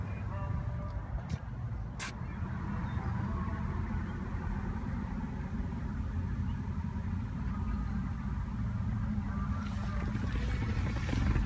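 Engine of a 2016 modern American muscle car starting and settling into a steady, loud, deep idle that runs continuously, with a couple of brief clicks early on.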